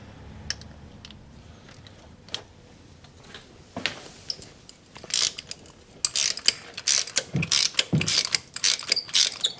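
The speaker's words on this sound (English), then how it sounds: "Right, I've got my spark plug socket here." Spark plug socket working a spark plug out of a 2014 VW Up 1.0 petrol engine, giving a run of close, sharp ratcheting clicks and metallic taps that grow busier and louder toward the end, with no talk.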